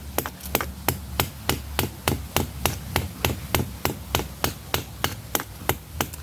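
A hammer drives a sharpened pointed piece into a papaya tree trunk: steady, sharp, close knocks at roughly three blows per second, evenly spaced, with no talking.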